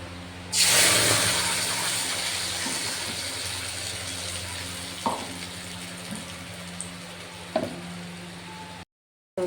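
A small splash of water poured into a rinsed mixer grinder jar in a home kitchen: a sudden loud gush that tapers off over several seconds, followed by a few faint knocks and clinks.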